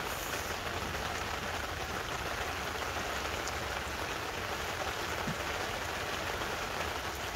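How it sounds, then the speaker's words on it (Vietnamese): Steady rain falls at night through dark early-morning hours, a dense, even patter on surfaces that continues without pause and stays fairly soft throughout. "Mà sợ mưa này dai tới sáng luôn á"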